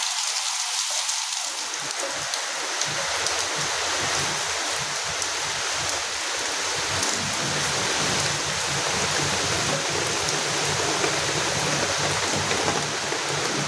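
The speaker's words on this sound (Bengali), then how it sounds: "এইভাবে বৃষ্টিটা ফের চলে আসলো দেখো" Heavy rain pours in a dense, steady hiss and patter on surfaces outdoors at home, swelling quickly from a slightly lighter start into a constant downpour with no voices.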